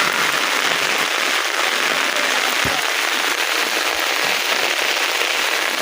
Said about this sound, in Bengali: ছোট একটা ছাতিতে কিন্তু এই বৃষ্টিতে মানে সেফ থাকা যায় না চতুর্দিক দিয়ে ফানি পড়ে